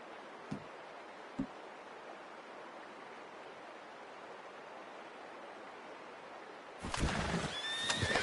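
Video game horse neighs and whinnies in a soft open-air scene, two short snorts early, then a louder whinny with hoof movement near the end, no talking.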